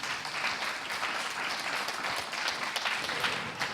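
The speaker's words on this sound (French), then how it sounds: "on peut applaudir" Audience applause fills an ESR label award ceremony: steady, dense clapping from a sizeable crowd, moderately close, continuing without a break and with no speech over it.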